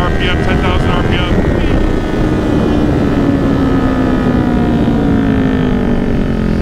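Yamaha R6 motorcycle exhaust revving up toward 10,000 RPM, a loud, steady high-pitched engine wail with a rising tone, close by throughout.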